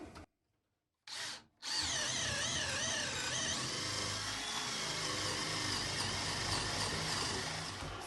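A power drill bores a hole for wiring through a construction surface in an off-grid bathroom during a 12V exhaust fan install, starting with a short burst, a pause, then a loud sustained whine that wavers in pitch.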